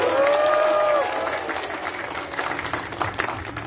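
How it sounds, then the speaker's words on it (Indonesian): Crowd applause at an arts gathering with a vice-presidential candidate, dense clapping throughout, with a brief whistle-like squeal of feedback at the start and occasional faint voices underneath. "tepuk tangan buat Bang Pilar Saga Iksan"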